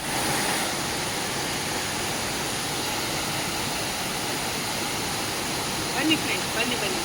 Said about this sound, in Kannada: ಜಲ ಜಲ ಜಲ ಜಲಪಾತ.